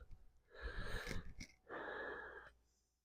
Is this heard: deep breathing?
yes